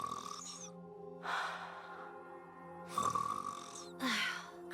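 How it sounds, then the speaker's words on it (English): A game character snoring in NIKKE, slow drawn-out rasping breaths repeating in a steady rhythm, each exhale a breathy rush separated by quieter pauses over soft background music. "Ave's snoring is goddess level. We can hear it all the way from over here"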